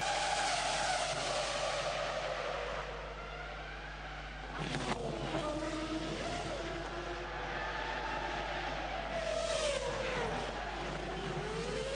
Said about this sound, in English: the back end gets away, and then it just grabs the car, pulls it to the barrier